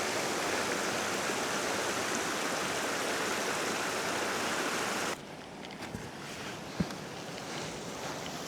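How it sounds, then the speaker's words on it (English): A small waterfall on a hike gives a constant loud rushing roar, which abruptly drops to a quieter, more distant flow about halfway through, with a couple of faint knocks. "That's a waterfall for me, that. I'm calling that a waterfall."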